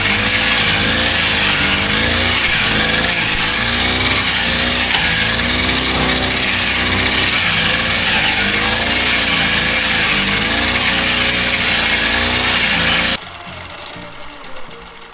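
A petrol weed trimmer runs loud and steady right up close, its engine buzz wavering slightly in pitch for about thirteen seconds before cutting off abruptly, leaving faint background noise.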